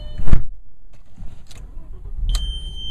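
A 2001 Audi A6 2.7T Quattro twin-turbo starting up: a short loud crank-and-catch burst, then a quiet idle with faint clicks and an electronic warning beep near the end, no talk.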